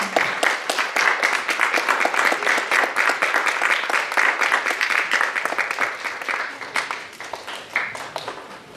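A dense, steady burst of audience clapping fills a Seoul Philharmonic Orchestra ceremony welcoming Guus Hiddink as honorary ambassador. The applause is sustained and even for several seconds, then thins slightly toward the end.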